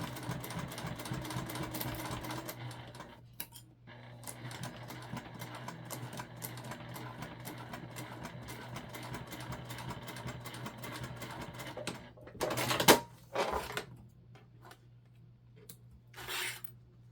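Sewing machine stitching a fabric travel pouch, a steady close mechanical whirr running continuously, then stopping, followed by a few brief handling clatters, no voices.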